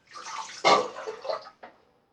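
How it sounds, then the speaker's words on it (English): A Rhodium Valet AutoStrop safety razor blade is rinsed of soap under a running tap, giving a brief close splash of flowing water that cuts off, then a short final trickle. "there's a little bit of soap on the blade, so I can just rinse that off"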